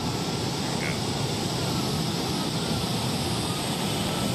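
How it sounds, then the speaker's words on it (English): Jet engines on a souped-up pulling tractor give a steady, loud roar that fills the whole stretch without letup, a broad rushing drone with no break. "That one's got jet engines on it."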